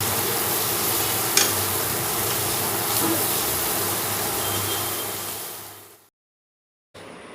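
Onions frying with turmeric and salt in a pan, a loud continuous sizzle with occasional scrape of stirring, ending abruptly in silence before a brief return of sizzling.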